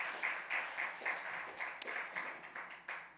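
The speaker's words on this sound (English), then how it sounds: "Y'all can clap it up for that." An audience claps at a distance, the applause swelling and fading in several faint waves over about three seconds, with no voices above it.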